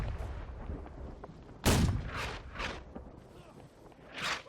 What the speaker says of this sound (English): Long range artillery duel